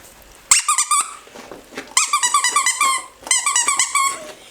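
A dog chews and squeezes a big new squeaky donut toy at home, producing bursts of rapid high squeaks in three clusters separated by short pauses, close and loud, with faint growly breaths between.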